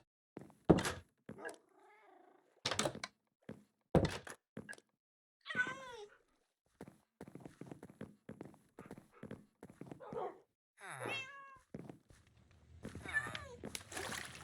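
Minecraft cat sounds in a survival game, brief meows and purring mixed among footstep thuds, clip-clop steps and other game noises, with occasional talk between bursts.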